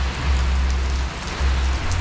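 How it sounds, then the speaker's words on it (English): Steady night rain in Hua Hin patters down continuously, a dense wash of drops on a hard surface with a low rumble beneath, with no voices. "It is raining tonight in Hua Hin. That just started."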